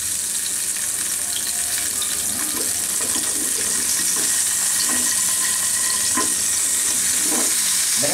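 Zucchini frying in a pan gives a loud, steady sizzle and hiss. Several soft scraping clicks come as the slices are turned over.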